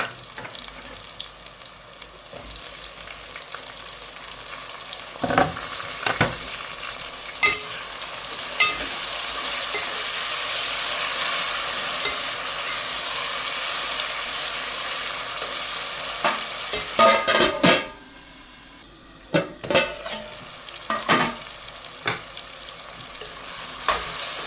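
Onions frying for a spicy chicken curry as tomatoes go in: a continuous sizzle swells in the middle, with sharp stirring knocks and scrapes of a spoon against the pan, then the frying quietens near the end.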